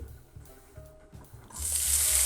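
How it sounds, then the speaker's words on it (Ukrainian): Bacon for a carbonara goes into a pan. A few soft knocks and clatters come first, then a loud, steady, close sizzle of frying takes over for the last second. "поки наш бекончик смажиться"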